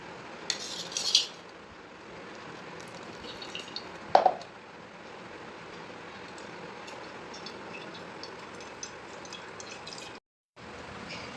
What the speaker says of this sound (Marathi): हे आपण मिक्सरमधून काढून घेतलेले असं छान ज्यूस तयार झालेला आहे. त्याला आपण आता गाळून घेऊया.